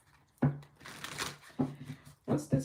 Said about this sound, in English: I didn't even get to finish shuffling